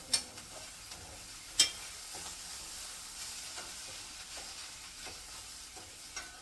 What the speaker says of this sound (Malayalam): അപ്പൊ നമ്മുടെ മുരിങ്ങയില നമുക്കൊന്ന് ഇളക്കി കൊടുക്കാവേ ഇടാം